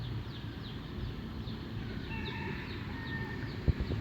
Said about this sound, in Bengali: দেখতে পারতেছেন মুরগি আশেপাশে